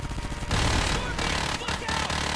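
Rapid video game gunfire, a dense rattling stream of shots that starts with quick pulses and then becomes a loud, continuous burst lasting a couple of seconds.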